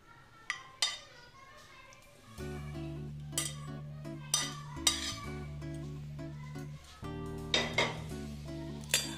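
Fried pointed gourd pieces being stirred in a pan, with scattered clinks and scrapes of a utensil against metal over a low steady hum, a few sharper knocks standing out.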